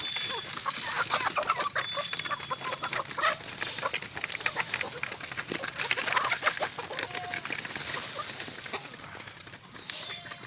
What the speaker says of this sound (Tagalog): Ito yung isa pa natin, rooster. Soon to be our next breeders.